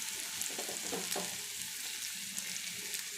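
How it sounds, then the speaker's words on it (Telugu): Garlic frying in hot oil in a pan, a bright steady sizzle with a few soft stirring knocks, close and continuous through a short stretch. "ఫస్ట్ ఎల్లుల్లిపాయలు వేసుకుందాం"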